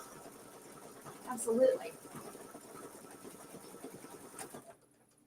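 A home embroidery machine with jump-stitch trimmers on runs steadily while stitching a strawberries mini-quilt block, its whirring going on beneath a person's talk before cutting off near the end.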